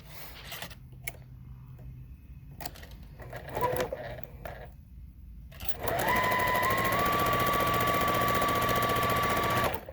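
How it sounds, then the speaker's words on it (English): A sewing machine stitches a quarter-inch seam on a pieced star quilt block, starting after some quiet handling and then running in a steady, loud continuous whir to the end. "gonna sew these again, 1/4 inch seam"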